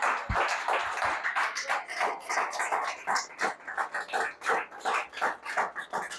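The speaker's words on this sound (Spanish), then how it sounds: "Den un aplauso al Señor Jesucristo." A church congregation clapping for Jesus Christ, with rapid, uneven claps from many hands at moderate distance, steady for several seconds.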